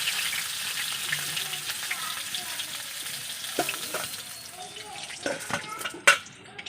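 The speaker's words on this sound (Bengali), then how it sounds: "আমি ওই তেলে তেজপাতা গোটা জিরা টমেটো কুচি" Bay leaf, whole cumin and chopped tomato fry in hot oil, a continuous close sizzle that gradually eases, broken by occasional spoon scrapes and a sharper pan clink toward the end.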